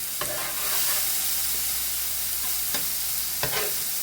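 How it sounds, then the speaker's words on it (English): Shrimp start cooking on a homemade hibachi, a loud, even sizzle of hot fat with a few quick scraping clicks of a utensil, close up and with no speech. "all I have left now is to start my shrimp"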